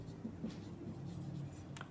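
A marker or chalk scrapes across a board during a chemistry lesson on ionization energy, making soft, continuous strokes against a low room hum with no talk.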